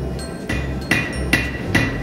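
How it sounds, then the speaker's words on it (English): Hammer blows on a knife blade being forged, four sharp metallic strikes at a steady rhythm about half a second apart, close and ringing, with no talk. "the knife does take a while longer because you have to keep hammering it"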